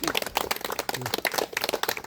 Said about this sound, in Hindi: संजय सर के लिए तो बहुत जोरदार तालियां।